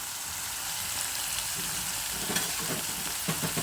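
Turmeric powder tipped into a hot pan while cooking fenugreek-leaf rice, a steady close sizzle and frying hiss with a few scraping stirs toward the end.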